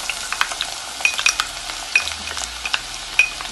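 Onions sizzle in hot oil over medium heat, a soft frying hiss broken by irregular clicks and scrapes of a utensil stirring the pan, close up and without speech.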